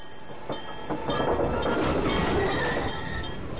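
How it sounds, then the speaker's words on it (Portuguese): A streetcar in Salvador, Brazil rumbles and rattles past close by, a steady loud rolling noise with metallic clinks and squeals, no voices. "O bonde!"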